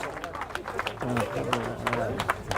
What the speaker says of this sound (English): 222 offshore there. Big round of applause.